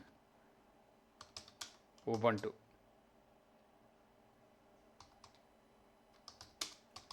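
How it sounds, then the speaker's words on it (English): Someone types on a computer keyboard while installing Linux: sparse, soft clusters of key clicks before and after a single spoken word. "you can open it anytime by typing"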